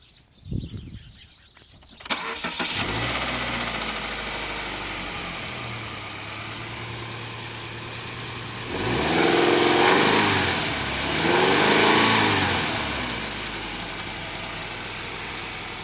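A 2015 Subaru Outback engine cranks and starts, then idles steadily before being revved twice, each rev swelling and falling back to idle, loud and close.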